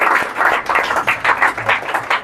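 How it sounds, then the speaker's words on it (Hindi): Audience at a motivational talk claps in a short, irregular burst, individual claps distinct and fairly close, fading and picking up again across a couple of seconds. "तालियां यार,"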